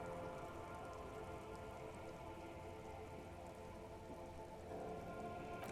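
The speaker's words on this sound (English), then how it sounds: "All around you, rain keeps falling down. On the wooden boards she's standing on, and on the water around you." Rain falls steadily on wooden boards and open water in the video game Disco Elysium, a constant, soft patter that runs unbroken throughout with no voices.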